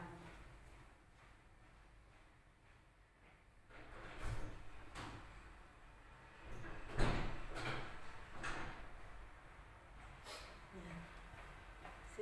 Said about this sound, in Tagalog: Sinarado ko yung mga pinto muna para ano.